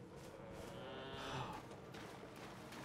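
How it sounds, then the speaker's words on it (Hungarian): Sheep or goats in Elden Ring: Shadow of the Erdtree give a faint, brief bleat midway, set low in a steady ambient game background. "Kecskék is. Vagy birkák."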